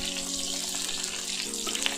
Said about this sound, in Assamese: আৰু পিঁয়াজখিনি মই এতিয়া 30 ছেকেণ্ড ভাজি ল'ম।